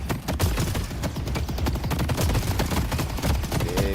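Turrets in the video game Lock the Dead open fire in a continuous, rapid burst of loud, close shots that rattle on without pause for several seconds.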